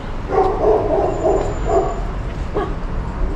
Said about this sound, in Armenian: Էս ստեղ ներսն էլ է ինչ որ շում հաչում։